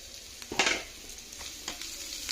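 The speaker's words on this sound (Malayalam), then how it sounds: "എണ്ണ നന്നായിട്ട് ചൂടായി വന്നിട്ട് നമ്മൾ ചെറിയ ഉള്ളി കേട്ടോ ആദ്യം ഇട്ട് കൊടുക്കുന്നു" Small shallots dropped into hot coconut oil, giving a close, steady sizzle with a sharp burst as they hit the pan and a few scrapes of stirring.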